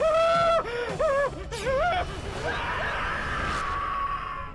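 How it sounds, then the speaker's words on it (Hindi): A woman screams in pain, giving several loud, wavering cries close to the microphone, after which the sound fades into a rushing background noise. "ये चीख कैसी?"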